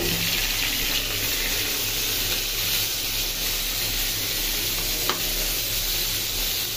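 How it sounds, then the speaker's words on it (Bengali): Spice-coated slices frying in hot oil give a loud, dense, steady sizzle and hiss, close up and unbroken, with one small knock partway through and no speech. "এই যে মশলা দিয়ে মাখিয়ে নিলাম, এখন তেলে ছেড়ে দেই।"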